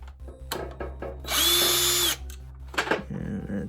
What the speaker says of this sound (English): So let's get the screwdriver back out.